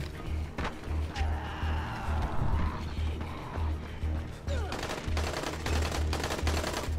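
Gunfire in the video game Dying Light, rapid repeated bursts of shots set against the game's other effects and a steady low pulsing rhythm, with people talking over the action.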